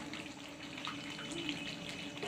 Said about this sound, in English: Now I will put in the vinegar.